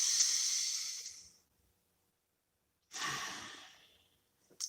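A deep breath, a long airy inhale, a pause of silence, then another slow breath close to the microphone, with no talk.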